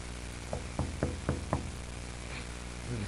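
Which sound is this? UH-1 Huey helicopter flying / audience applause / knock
knock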